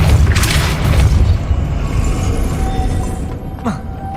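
A Depulso spell blast in Hogwarts Legacy lands as a loud, booming burst with a rumbling low-end impact that decays into a ringing magical tail and a short whoosh near the end.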